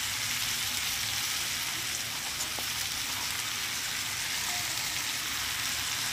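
Fish and vegetables sizzle and fry steadily in a pan in a Bengali kitchen, for a fish curry with unripe winter tomatoes, a constant loud hiss close by, with no voices.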